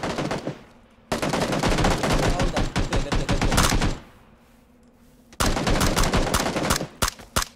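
Loud bursts of automatic gunfire in PUBG come in two long rapid volleys, separated by a quieter gap and ending in a few scattered shots.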